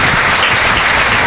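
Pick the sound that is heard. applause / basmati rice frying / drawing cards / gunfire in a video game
applause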